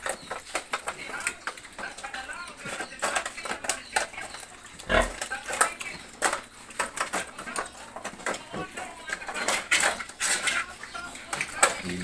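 Pigs grunt and squeal in short bursts among clattering pots, dishes and metal, with people talking through much of it.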